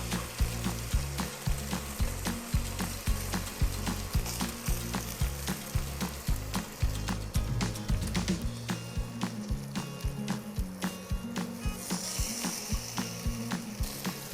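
Chicken cutlets wrapped in prosciutto fry in a hot skillet, a steady close sizzle and crackle broken by repeated knocks and scrapes of the meat being shifted around the pan, with no voices.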